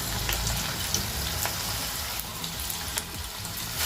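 Small spoonfuls of beetroot and carrot pakoda batter fry in a pan of moderately hot oil, giving a soft, continuous bubbling sizzle with light pops, fairly quiet and close, with no voices.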